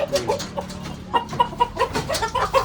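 Free-range chickens cluck nearby in short, repeated bursts, a few soft calls followed by a quicker run of sharper clucks.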